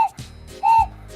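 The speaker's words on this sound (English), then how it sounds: "Let's demonstrate the whistle movement." A giant whistling Thomas & Friends toy train gives two short, high, bright toots about half a second apart, with soft mechanical clicks and rumble between them.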